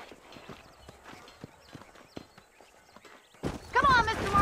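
Horse hooves clip-clopping in the video game Red Dead Redemption, a regular walking gait of hoof strikes beneath speech, followed near the end by a louder burst with a horse whinny.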